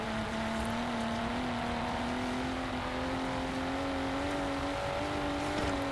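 A car engine revs in Forza Horizon 4 during a battle royale round, a steady loud whine climbing slowly in pitch as the car accelerates, continuous and close with no talking.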